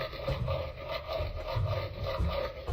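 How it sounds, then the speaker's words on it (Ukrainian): In a video game, hollow, rumbling scrapes repeat in uneven pulses, like empty metal barrels being dragged across a hard floor, steady and fairly close. "Звучить, наче хтось якісь металеві бочки пусті щось перетягує."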